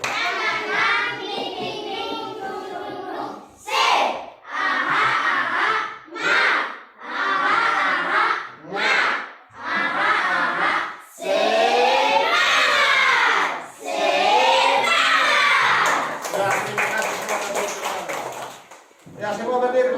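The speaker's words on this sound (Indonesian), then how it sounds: "kita tepuk semangat." Indonesian primary-school children in a classroom perform a spirit clap chant, shouting loudly in unison with rhythmic clapping in repeated bursts separated by short pauses.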